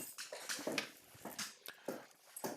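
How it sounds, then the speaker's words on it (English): A dog whimpers nearby in a quiet room, a series of short, high, whiny yelps and whines coming in uneven bursts. "that's the dog again."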